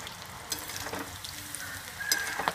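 Sliced raw jackfruit chips fry in hot oil with a continuous close, loud sizzle and crackle, plus occasional stirring scrapes and sharp pops, no voices.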